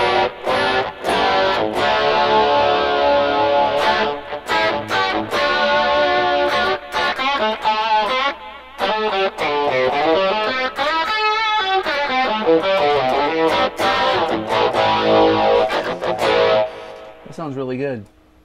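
Electric guitar played through a Tom Scholz Rockman with the echo switched off, a loud, continuous distorted tone with sustained chords and ringing notes that fills the clip and cuts out sharply near the end.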